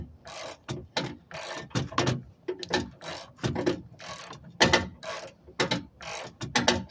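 A spare tire winch under a GMC Canyon pickup is cranked down by hand, producing a run of sharp, close ratcheting bursts in an irregular rhythm with brief pauses between turns.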